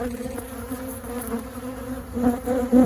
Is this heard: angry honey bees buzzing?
yes